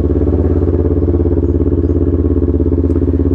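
A Kawasaki Ninja 400 motorcycle idles close by while warming up, a loud, steady low throb with even pulsing beats and no voices.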